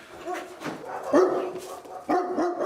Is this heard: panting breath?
no